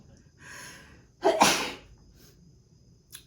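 A person sneezes once, close and loud: a short intake of breath, then a sharp burst that fades within half a second, followed by quiet.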